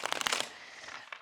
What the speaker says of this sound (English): It's a lot harder to shuffle than I thought it was gonna be.